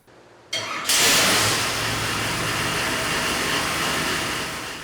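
A dirt modified race engine fires up on a dyno and settles into a loud, harsh, steady roar that fills the room, following a brief quieter lead-in; no voices.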